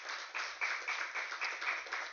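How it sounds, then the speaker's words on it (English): Church congregation clapping hands during a service, a steady rhythmic patter of many hands that rises and falls slightly, somewhat distant and fairly soft, with no talking. "clap your hand tonight in Jesus' name"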